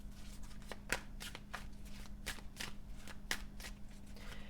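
Tarot cards being shuffled by hand, a run of close, crisp riffling bursts in an uneven rhythm over a faint steady hum, with no talking.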